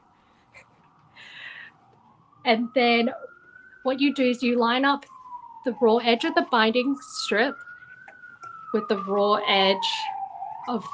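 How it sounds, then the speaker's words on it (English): Emergency vehicle sirens wail on a New York City street, a rising and falling tone sweeping steadily in the background. Someone talks over it throughout, her voice louder than the siren. "Sorry if you hear sirens. It's the sound of New York City for you."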